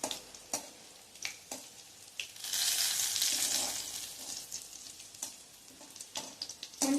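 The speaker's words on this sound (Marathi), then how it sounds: "ह्या मिरच्या अगदी काळ्या होईपर्यंत आपण ह्यात परतून घेणार आहोत." Chilies fried in oil until blackened, with sharp spoon taps and scrapes against the pan and a louder burst of crackling sizzle in the middle, close up and without speech.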